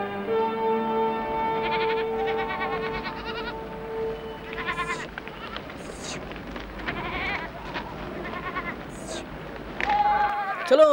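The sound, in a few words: sheep bleating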